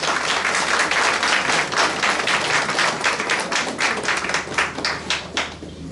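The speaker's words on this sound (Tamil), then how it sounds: "அனைவரும் பலத்த கரகோஷம் எழுப்பலாம்." Loud, sustained applause from a crowd at a Tamil temple devotional music festival, dense clapping filling the whole stretch before thinning slightly at the end.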